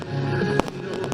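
Fireworks burst during a fireworks competition, a couple of sharp cracking explosions breaking through a steady rumbling crowd-and-display background, fairly loud and close.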